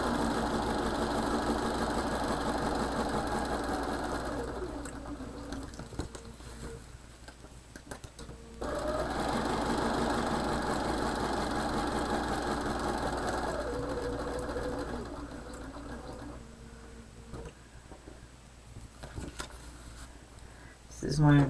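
A sewing machine stitching a quilt runs in long steady bursts of fast, even mechanical whirring, pausing briefly around the middle before starting up again, with a voice talking over parts of it.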